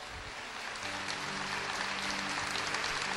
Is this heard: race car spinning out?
no